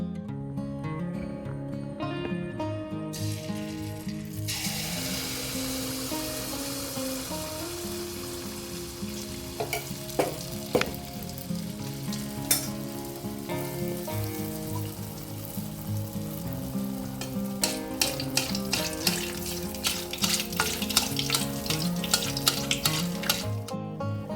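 A semolina and wheat flour batter cooks on a pan over a medium flame, with a continuous sizzle over background music and scattered sharp crackles and utensil taps.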